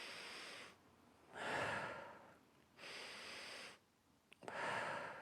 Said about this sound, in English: breathe into our belly.